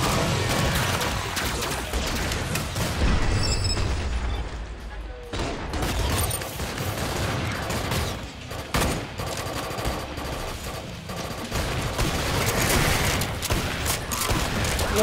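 Heavy gunfire from a beach battle video game: dense overlapping bursts and rapid automatic fire with occasional booms, loud and continuous for the whole stretch.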